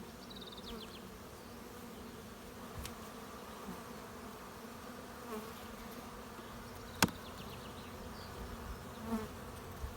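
A steady, faint buzz of many honeybees at the hive fills the air, with a few sharp clicks and taps.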